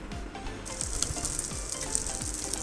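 Basmati rice frying in ghee in a pan for beef tehari, a steady close sizzle with occasional stirring scrapes and knocks, no talking.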